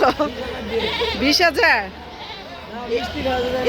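Goats and sheep bleat repeatedly at a large livestock market on the Shahjahanpur Maitri Sangha ground, with loud wavering calls close by while people talk and haggle over them.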